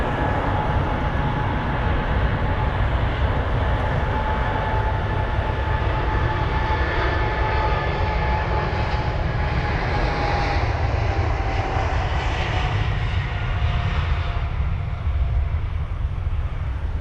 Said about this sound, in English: There it is, the Singapore 380 once again. Look at that. It doesn't usually taxi down this tarmac